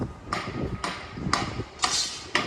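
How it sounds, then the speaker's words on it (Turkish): Construction work at a neighbouring site produces a series of sharp, spaced metallic knocks, like hammer blows, about five strikes at a moderate distance over a faint background. "Bu arada yan tarafta inşaat var. Onun sesi rahatsız edebilir terasa."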